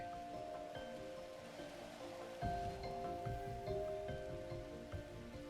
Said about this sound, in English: There's some rejuvenating rain.